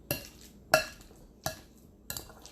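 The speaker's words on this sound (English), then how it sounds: "Let's give this a stir." A utensil stirs a cheeseball mixture in a bowl, giving four sharp clinks against the bowl at a steady, unhurried pace with quiet pauses between them.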